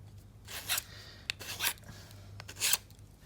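A file rasping on a plastic joint of an action figure during a rotating-waist modification, three or four short scraping strokes, close and fairly quiet.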